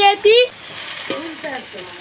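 Malabar spinach stems fry with turmeric in a little oil in a pan, giving a soft, steady sizzle with a brief stir near the start.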